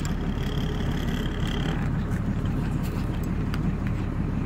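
A six-cylinder Volkswagen 15180 truck engine labours up a mountain road, a loud, steady, dense drone of engine and road noise that runs unbroken throughout, with no talk.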